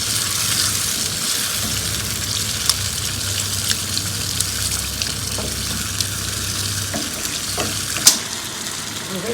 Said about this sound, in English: And now I'm going to mix this all up.